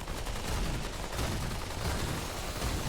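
Heavy, continuous gunfire in Remnant 2, a dense, roaring barrage that fills the whole stretch at steady loudness with no clear gaps between shots.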